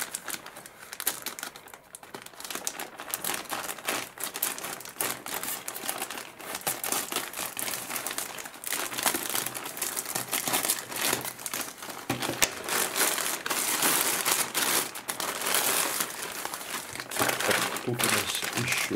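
A plastic packaging bag holding a slingshot bag is opened and crinkled, giving continuous close, loud rustling and crackling that runs throughout with no pauses.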